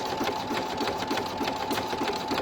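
Sewing machine stitching an e-reader sleeve, a steady rapid mechanical whir with fast regular needle pulses running throughout, close and fairly loud with no talking.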